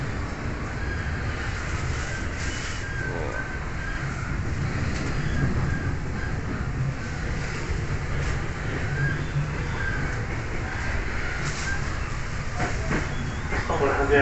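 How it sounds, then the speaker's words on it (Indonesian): Steady rumble of a commuter train in motion heard from inside a carriage heading to Jakarta Kota station, with faint rattling and a soft murmur of voices in the background. "Kita lagi naik kereta menuju Jakarta Kota."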